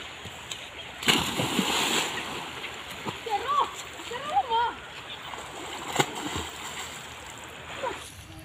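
River water splashes and sloshes near someone bathing, with irregular bursts of splashing over a steady flowing background while a person talks intermittently.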